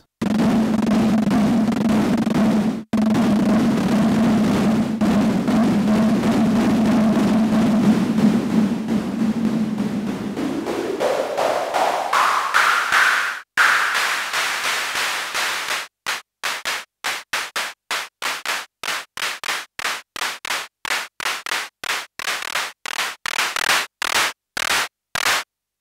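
Clap sound from a Modor DR-2 drum machine, a noisy burst that morphs and rises in pitch, then breaks into a fast run of short, crisp repeated claps near the end, loud and dry with no voices.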